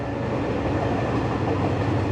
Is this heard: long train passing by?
yes